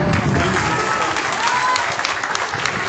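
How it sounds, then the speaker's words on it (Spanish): Audience applause at a political event for a municipal committee swearing-in, steady and dense clapping throughout with some voices mixed in. "Un aplauso aquí para Cristian Zapata"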